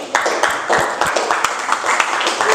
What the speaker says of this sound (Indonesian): Ayo beri tepuk tangan untuk kelompoknya Raden Ajeng Kartini.